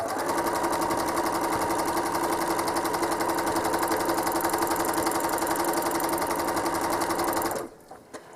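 A home sewing machine runs continuously while stitching a quilt, a steady, fast mechanical hum and needle chatter that holds for over seven seconds before stopping abruptly.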